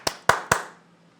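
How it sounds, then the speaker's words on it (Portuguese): Three sharp hand claps ring out in quick succession, close and fairly quiet, then fade into silence during a third-grade online school lesson. "Vamos dar uma salva de palmas."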